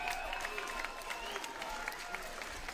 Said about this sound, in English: Gentlemen, please put a big round of applause together for both of the boxers.